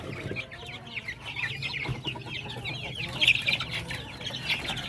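Young chicks and larger growing chicks cluck and cheep steadily in a coop, a dense chorus of chirps close by with a low hum underneath, no talk.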